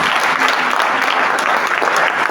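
A church congregation claps in loud, sustained applause, dense and continuous throughout with no break.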